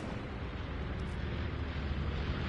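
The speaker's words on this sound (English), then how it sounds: "Hearing a friendly bombing run." Friendly bombing run in the Hell Let Loose war video game on PS5, a continuous loud rumbling roar of distant explosions and bombardment with no distinct individual blasts.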